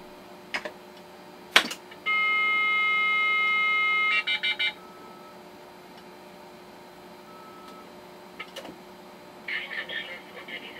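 A dial-up modem dials an unassigned telephone number, with a few clicks, then a steady two-second tone, a quick run of pulsed beeps and more faint clicking on a quiet line.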